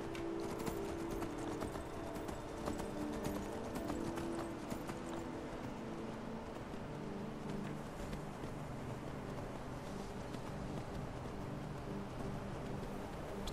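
Horse hooves clip-clop steadily in the video game Skyrim, a continuous run of rapid hoofbeats at moderate distance over ambient game music and background noise.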